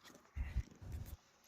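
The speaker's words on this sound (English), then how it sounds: "Dogs." A dog named Evie makes two short, low, breathy bursts close by, like soft grunting or whimpering, with quiet gaps around them.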